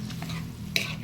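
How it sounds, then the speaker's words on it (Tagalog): Mung beans sautéed in a pan, a soft steady sizzle with a stirring scrape and a brief metallic clink near the end, quiet and close. "So, lagay na natin yung munggo."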